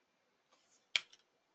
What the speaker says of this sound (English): So if I click again